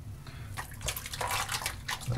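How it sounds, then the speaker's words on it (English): Water from a tap runs steadily while hands are rinsed during a wet shave, a soft continuous splash and trickle at moderate level with no talk. "Rinse my hands real quick."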